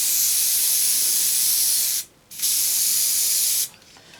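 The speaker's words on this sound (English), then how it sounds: "I'll give it one more spray just to seal that." Hairspray sprayed onto a handmade model tree to seal it, a steady close hissing aerosol burst of about two seconds, then a brief pause and a second burst.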